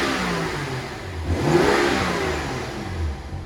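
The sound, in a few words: 2012 BMW 335i N55 engine revving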